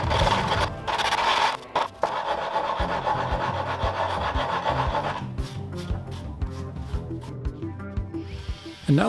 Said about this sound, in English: then go into my carving discs and bits to make it as natural looking as possible